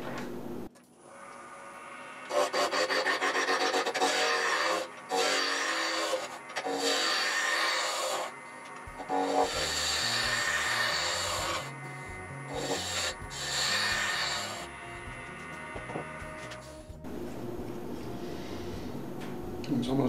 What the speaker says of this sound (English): let me turn it around with a spindle roughing gouge